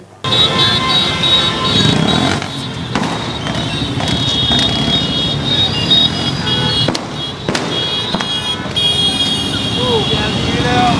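Motorbikes roll along a BJP-led Tiranga Yatra bike rally in a loud, dense roar of engines and traffic, with sharp bangs and crowd noise scattered throughout.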